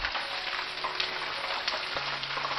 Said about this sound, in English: that's why my grease is popping, is because some of the filling is going inside the grease.